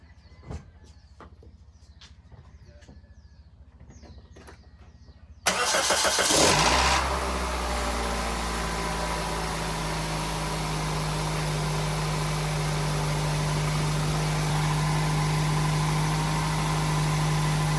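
A Pontiac Vibe with a newly replaced starter cranks briefly after a quiet stretch, catches quickly and settles into a steady, close idle that hums on without interruption.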